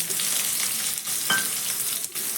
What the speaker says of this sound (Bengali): এখন আমি এর মধ্যে দিয়ে দিচ্ছি একটা বড় সাইজের কুচনো পেঁয়াজ